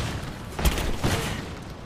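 Gunfire in the action game Rise of the Tomb Raider: two sharp, fairly loud shots about half a second apart over a dense, rumbling combat background.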